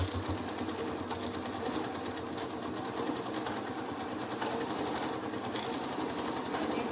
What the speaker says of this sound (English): So you just pull it in and then you sew your hem.